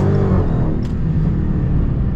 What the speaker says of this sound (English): I just gassed it under this bridge like I'm about to do right now.